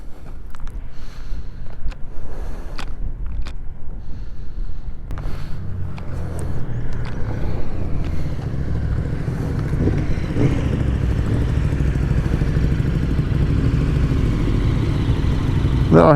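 A Royal Enfield Himalayan 411 motorcycle is ridden over Healy Pass in Ireland, its steady engine drone mixed with wind rush, close and continuous, with no talking.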